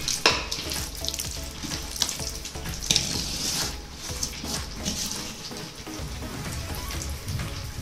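Chicken frying in ghee in a pot for Hyderabadi dum biryani, giving a steady crackling sizzle with wet, watery spatter throughout, fairly close and without talk.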